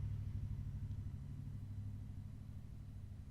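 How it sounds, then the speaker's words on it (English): A loud truck passing outside, heard indoors as a steady low engine rumble that fades slightly over a few seconds, with no voices. "this loud ass truck wanna, did y'all hear that?"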